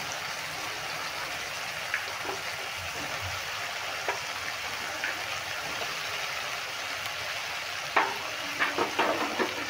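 Chopped capsicum and tomato stirred and fried in a pan, a steady close sizzle with occasional scrapes and clinks of the spoon, getting busier toward the end, no talking.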